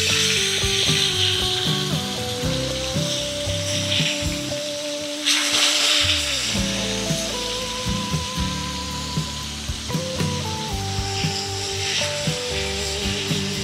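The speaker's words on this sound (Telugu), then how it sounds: "ఇది ఒక పక్క వేగిన తర్వాత మళ్ళీ దాన్ని ఫ్లిప్ చేసుకొని 2 పక్క వేయించుకోవాలి." Pedda Sankaralu fish fries in a pan on its second side, a steady, loud, crackling sizzle under some background tones.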